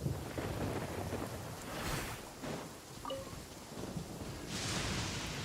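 Thunder rumbles through steady rain in a video game, with broad noisy swells rising and falling over a constant wash of rainfall and no voices.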